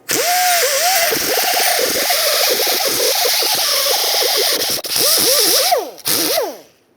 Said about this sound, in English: I'm going to use a wire wheel on a drill